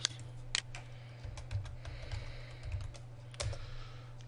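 Keys clatter on a computer keyboard in short bursts of typing with brief pauses between, close and fairly quiet, with no voices.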